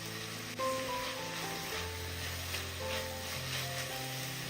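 Chopped, deseeded tomato is stirred into an oil-free frying pan, a soft, steady sizzle under background music with a faint clatter at the start.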